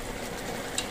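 Shrimp added to laing cooking in a pan, giving a brief, even sizzle of frying close by, with a faint tap near the end.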